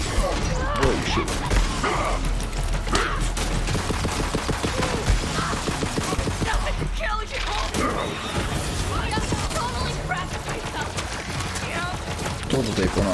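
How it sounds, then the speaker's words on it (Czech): Rapid gunfire in the PC shooter Borderlands 3, playing as FL4G, dense bursts of automatic shots and impacts layered over game music and effects, loud and continuous, with a player talking in Czech over it. "Tohle tady po nás střílí"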